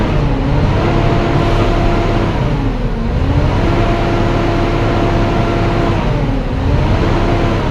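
An engine idling steadily right after starting, loud and close, a constant rumbling hum with a sustained tone that dips and recovers a couple of times, no voices.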